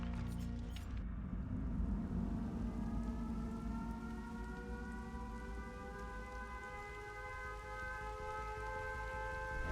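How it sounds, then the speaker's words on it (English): The famous Midwich Elementary School siren wails on a video game map as it loads, a long, droning civil-defense tone with layered harmonics, rising and holding over rain-like background noise with no talking. "We have the Midwich Elementary School with the famous siren playing as you load in"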